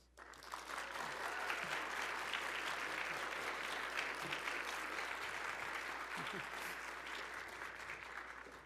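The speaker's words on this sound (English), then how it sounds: "Give him another round of applause" Sustained applause from a large crowd, steady and dense clapping for several seconds before tapering slightly at the end.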